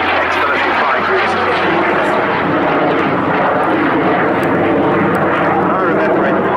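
Jet Provost T3 ex-military jet aircraft flying at Abingdon, a loud continuous engine roar that holds steady throughout, with a voice talking over it.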